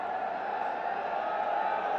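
Cricket stadium crowd at a Bangladesh Premier League eliminator between Rangpur Riders and Khulna Tigers, a constant roaring wall of cheering voices with a steady drone-like tone, distant and unbroken.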